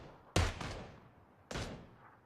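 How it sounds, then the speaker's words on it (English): Two sharp gunshots in a multiplayer shooter match, about a second apart, each with a decaying tail, moderately loud and alone without voices. "Looks like we got shots over here now."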